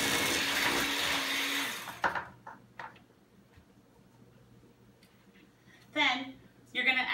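Electric mixer whirring through cookie batter in a bowl, a loud steady motor drone that cuts off after two seconds, followed by quiet clicks and a person speaking.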